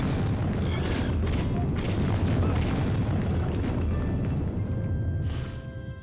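Heavy crumbling and booming of stone architecture collapsing in the video game Rygar, a dense continuous rumble of destruction with scattered crashes and bursts, loud throughout before tapering off at the end.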